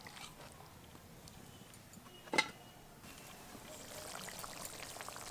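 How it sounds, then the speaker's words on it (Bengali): Water is poured into a pot of tough chicken and potatoes, a faint, soft stream that starts after a short clatter and runs quietly to the end. "তার জন্য জল কিন্তু একটু বেশিই দিলাম।"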